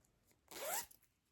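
A zipper on a lined crochet crossbody bag is pulled once in a single quick, close, rasping zip lasting under half a second, in a quiet room.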